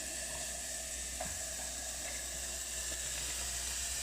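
Hormel chili sizzles over a gas flame in a pot on a kitchen stove, a steady soft hiss with a low burner rumble beneath and a few faint clicks, continuous and close.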